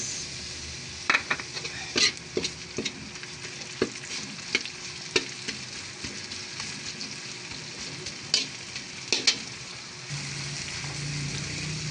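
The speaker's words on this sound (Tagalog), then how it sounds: "magigisa ako ng bawang. Pagkatapos, isusunod ko na po dyan ang sibuyas" Garlic and onion sautéing in a pan as a base for palabok, with a steady soft sizzle and scattered sharp spatula scrapes and clicks against the pan, close and fairly quiet, with no talking.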